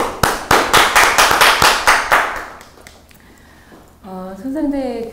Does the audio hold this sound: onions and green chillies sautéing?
no